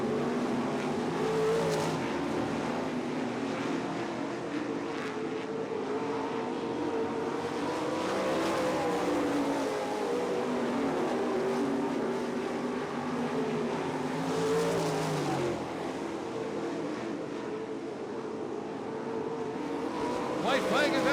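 Dirt track race cars, Grand National and B-Mod classes on championship night, roar steadily through the final laps, engines droning and rising together at a distance while an announcer talks over the noise.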